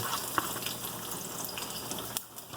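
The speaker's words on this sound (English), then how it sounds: "So my oil is hot now. I'm gonna go ahead and put the garlic." Garlic dropped into hot oil gives a steady, close crackling sizzle with scattered pops, fairly quiet and continuous throughout, with no voices.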